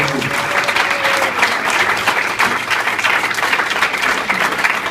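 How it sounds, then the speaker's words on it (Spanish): A church congregation claps loudly and steadily, a dense wash of applause lasting the full few seconds with a brief tone at the start and faint voices underneath. "Un aplauso fuerte para el Señor."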